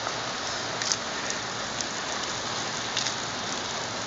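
Steady rain falls after a hot day, a dense, even hiss of drops on surfaces with a few sharper patters, continuous and moderately loud with no voices.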